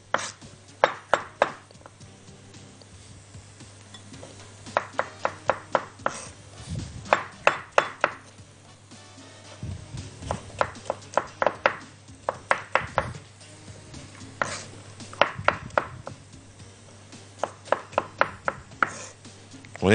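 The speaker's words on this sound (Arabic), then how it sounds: "واجيب عندي المشروم او الخرشوف اقطعه" A knife chops artichoke into small cubes on a cutting board for artichoke soup, in quick rhythmic bursts of sharp taps with short pauses between runs, close and clear with no talk.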